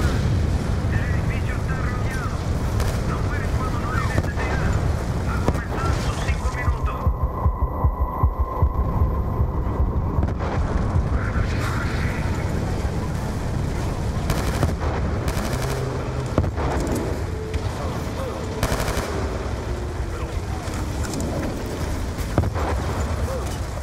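Gunfire and heavy booms in the Call of Duty Black Ops 2 campaign, with continuous bursts of shots and low rumbling under voices.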